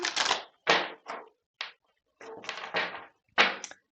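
Several quick bursts of tarot cards riffling and slapping together as they are shuffled, coming in uneven clusters with short pauses between them, close and fairly loud.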